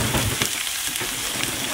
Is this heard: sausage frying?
yes